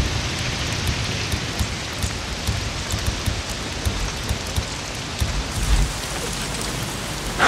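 Rain falling in the video game Days Gone, a steady dense hiss of drops hitting surfaces, constant and fairly loud with a few heavier patters, no talk over it.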